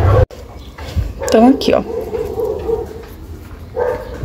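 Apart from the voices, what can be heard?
dogs barking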